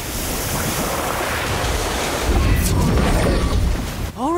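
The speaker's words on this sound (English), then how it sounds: "Orb of Water." Orb of Water spell from the Harry Potter Magic Awakened video game, a steady loud rushing wash like surf and wind, swelling midway and then cutting to a short tonal flourish.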